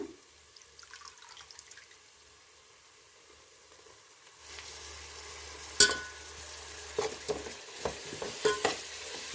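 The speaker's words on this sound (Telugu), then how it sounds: "జీడిపప్పు వేస్తున్నానండి ఇప్పుడు పుదీనా కూడా వేస్తున్నాను" Cashews and mint dropped into a hot pan for coconut rice: a quiet start, then a sizzle rises sharply, followed by a loud clatter and a run of stirring scrapes and taps against the pan.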